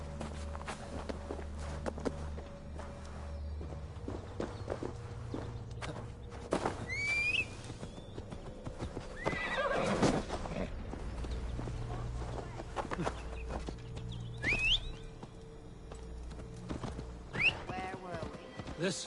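In the Assassin's Creed Valhalla video game, a horse moves through a Gloucestershire forest with repeated hoof clops and occasional snorts or whinnies, under intermittent talk.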